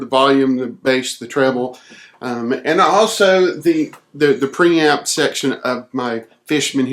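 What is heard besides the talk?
No everyday noise stands out behind the speech.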